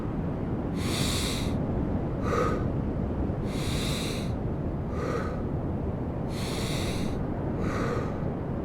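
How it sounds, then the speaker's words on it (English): Deep breaths drawn in and then allowed to fall out, repeated in a slow steady rhythm: three long airy inhales, each followed by a shorter, softer release, close up with no talk. "take deep breath into the stomach and then I let it fall out"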